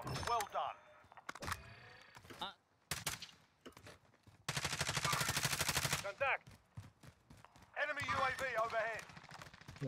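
Bursts of automatic gunfire from a first-person shooter game, Call of Duty style with a Bruen rifle, crackling in rapid strings and short volleys, mixed with game sounds and someone talking over the action.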